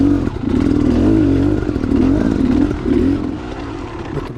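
Dirt bike engine revving hard on a wet trail, a loud sustained drone with rising and falling pitch as the throttle opens and eases, close and continuous, with some clatter over rough ground.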